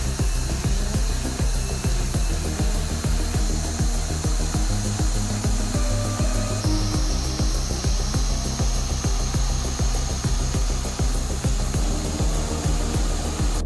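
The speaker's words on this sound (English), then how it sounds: "This accelerator lever controls airflow into the blower. Let's run it. Here the RPM increase." A small Lego-built engine with a blower, butterfly piston and turbine runs loudly and steadily, a dense rapid mechanical clatter and whir that keeps going throughout with a slight change in pitch partway as its speed rises.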